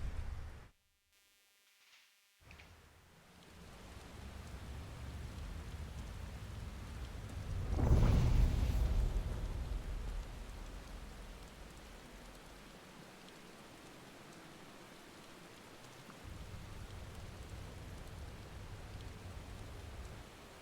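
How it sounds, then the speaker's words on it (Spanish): Steady rain with a heavy thunder rumble swelling midway in the video game Final Fantasy XVI, the downpour hissing continuously before and after the roll of thunder. "Está lloviendo."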